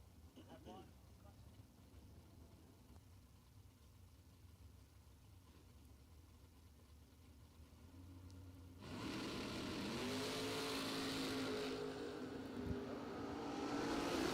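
A Camaro and other cars line up for bracket drag racing; after a long stretch of low idling and murmuring, engines roar loudly into a sustained full-throttle run with rising revs.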